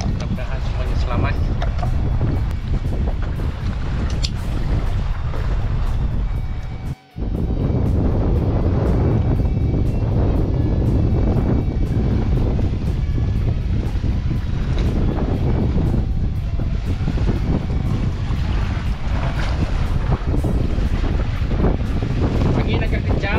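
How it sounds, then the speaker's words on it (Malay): Strong wind buffets a fishing boat out at sea, a loud, constant roar of rushing air and water noise that runs continuously with one brief dropout. "Angin agak kencang, beralun tapi sejuk lah."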